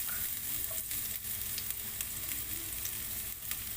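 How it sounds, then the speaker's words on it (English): Garlic sautéing in hot oil in a heated wok, a continuous close, quiet sizzle with faint crackles throughout and no voices. "So now our oil is heated up as well as our wok. So now it's time to put our garlic"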